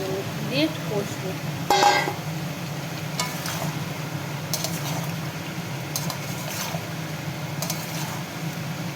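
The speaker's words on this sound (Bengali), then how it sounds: "এবারে পটল ভেজে রাখা পটলটা আমি এতে দিয়ে দেবো, দিয়ে একটু কষবো" Pointed gourd being stir-fried in a pan with pumpkin and potato for a vegetarian curry: steady frying hiss with a few spoon scrapes and clanks, one louder knock early on, all under continuous talking.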